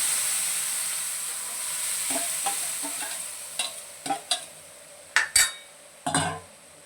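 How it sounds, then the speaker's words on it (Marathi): Coriander-cumin powder and red chilli sizzle in hot oil with a steady bright hiss, then cooked dal and spinach go in amid a series of louder stirring scrapes and clanks of the spoon against the pan. "धणे जिरा पूड तेलामध्ये छान असं फ्राय होऊ द्यायचं अर्धा भर, आणि त्यामध्ये आपण शिजून घेतलेला डाळ पालक टाकूया"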